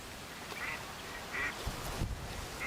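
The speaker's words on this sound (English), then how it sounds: "there's a bit of a scrap going on between another female mallard and a coot" Female mallard and coot scrapping on open water, with a few short quacking and squabbling calls spaced through it and splashy low bumps near the end, at moderate distance.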